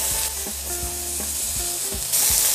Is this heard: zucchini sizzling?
yes